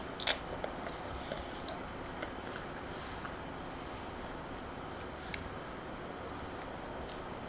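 A child bites into and chews a snack close by, with faint crunchy ticks and clicks spread through a quiet room.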